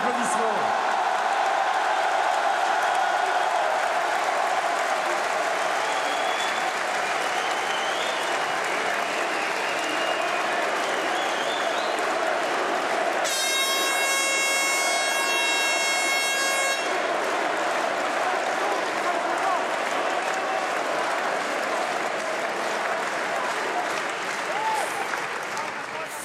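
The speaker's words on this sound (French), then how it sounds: "ils sont étourdis par vos applaudissements" A crowd at a French presidential campaign rally applauds loudly, with sustained clapping and cheering throughout and a brief horn-like blast partway through.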